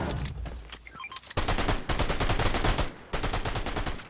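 Rapid bursts of automatic gunfire in the Fortnite video game, dense and loud, a short pause between volleys, with brief electronic tones near the start.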